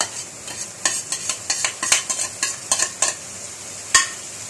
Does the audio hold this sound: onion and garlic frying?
yes